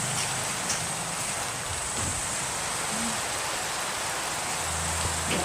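Steady rain falling in the Minecraft video game, a constant even hiss filling the whole stretch without pause, moderately loud, with no one speaking.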